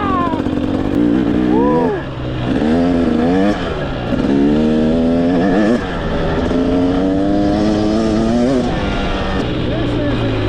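A 2024 Husqvarna TX300 two-stroke dirt bike revs loud and close, its pitch rising and falling through repeated throttle bursts as the rider shifts, with a brief excited shout from the rider.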